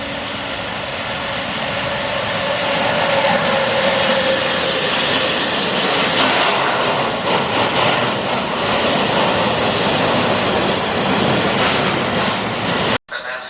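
A train rushes through Milano Rogoredo station in wet weather, a loud continuous roar with rhythmic clattering pulses that swells and then stops suddenly near the end.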